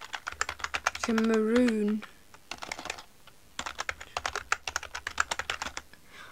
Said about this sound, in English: you don't actually look at the computer and you just type